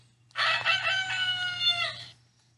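A rooster crows once, a loud bright cock-a-doodle-doo lasting nearly two seconds over a low steady hum, close and alone without talk.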